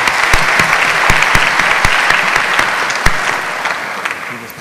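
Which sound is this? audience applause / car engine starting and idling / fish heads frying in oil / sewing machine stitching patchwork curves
audience applause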